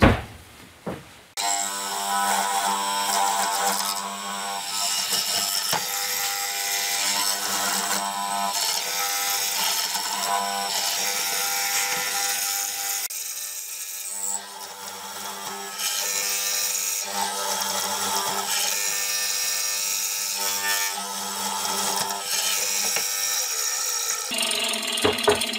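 A mortiser cutting mortises in wood for an angled panel door, giving a steady, continuous mechanical whirring and chopping drone that dips briefly midway, with no talk.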